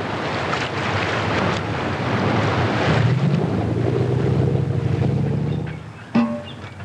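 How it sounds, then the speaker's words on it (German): Leopard tank from a 1972 Bundeswehr film driving through deep water, a loud continuous rushing, surging wash with heavy wind-like roar and a low engine drone, easing near the end. "der Leopard fährt und fährt unter Wasser und taucht auch wieder auf"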